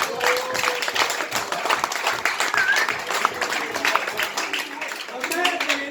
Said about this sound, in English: Big round of applause for Uruguay.